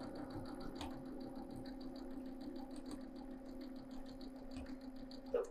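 A sewing machine stitches half square triangles for quilt blocks, giving a faint, steady mechanical hum with light repetitive ticking throughout.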